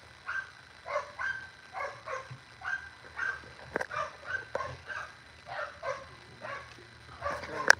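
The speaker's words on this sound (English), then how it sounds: "That's all you hear on the east side is a dog" On the east side, a dog barks again and again in a steady rhythm, roughly once a second, clear and moderately close, with a louder burst at the end.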